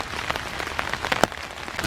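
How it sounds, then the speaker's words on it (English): Rain patters steadily on leaves and ground on a dark, foggy December morning in Iroquois Park woods, a dense close hiss of drops with occasional louder splats. "When it's raining like this"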